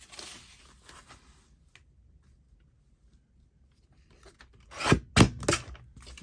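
A paper page for an Easter journal is trimmed, with soft rubbing and rasping at first, then a quiet pause and a few loud, close crisp cuts near the end.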